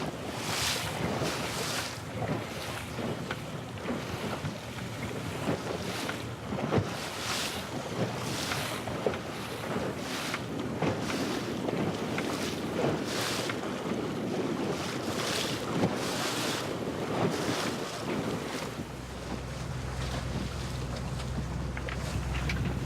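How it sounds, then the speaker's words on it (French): Boat motoring slowly at sea at idle ahead, with occasional small bursts of throttle to hold speed; steady low engine drone under heavy wind buffeting and splashing waves throughout, with no voices. "On le suit à marche avant ralenti et on est obligé de temps en temps de remettre des petits coups de gaz pour tenir sa vitesse."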